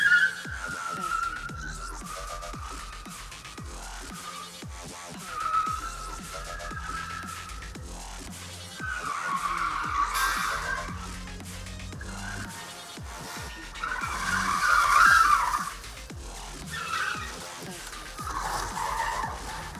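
A car on its auto gymkhana run skids through turns, with tyres squealing in repeated bursts between quieter stretches as the engine rises and falls, moderately distant, with faint voices.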